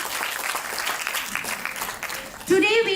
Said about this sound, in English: Can we have a clap for them